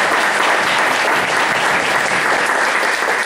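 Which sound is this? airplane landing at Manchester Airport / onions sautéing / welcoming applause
welcoming applause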